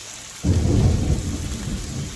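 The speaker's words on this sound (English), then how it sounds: "You hear that? That is thunder." Thunder rolls outside a home kitchen during a rainstorm, starting abruptly as a loud low rumble over steady rain noise and then slowly trailing off.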